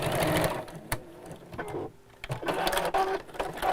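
A domestic sewing machine stitches the seam of a fabric woodland pouch bag, running in close, rapid mechanical bursts with a brief pause and restart midway, loud and near.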